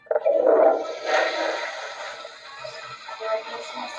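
Toilet flushing in the Portal video game: a loud rushing gush of water that peaks at once, then settles into a fading, gurgling drain with faint electronic tones.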